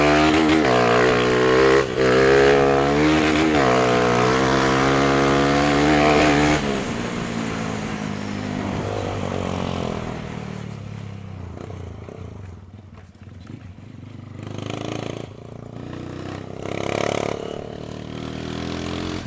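A motorcycle with diesel oil poured into its exhaust, smoking and dripping oil from the tailpipe, revs loudly up close with a rising, wavering engine note, then drops to a rougher, quieter idle with occasional blips.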